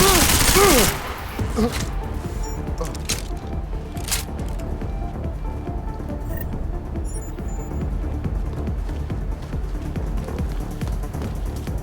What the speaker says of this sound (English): I'm getting reports of gunfire in Apex Center.